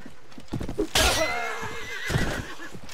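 A horse whinnies loudly in the medieval combat video game Mount and Blade Warband, a sharp neigh followed by a second call, with clip-clopping hooves and battle noise around it and no talk.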